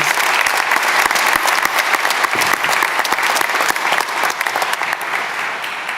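Sustained, dense applause from a large audience at a university graduation ceremony, honouring staff colleagues; loud, even crackle of many hands clapping throughout, with a few sharper claps near the front.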